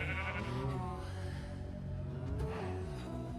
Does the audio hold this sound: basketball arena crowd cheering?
no